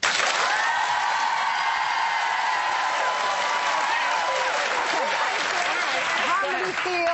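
A live television studio audience applauds, dense continuous clapping with a few cheers that fills the room evenly and stays loud throughout.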